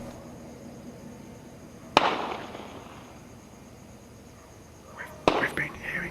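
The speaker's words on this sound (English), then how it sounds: "We've been hearing shots very close to the house for the last 30 minutes." Gunshots ring out close to a house at night in Dili, East Timor: one sharp report, then a second a few seconds later with a scatter of smaller noises, over a steady background hiss.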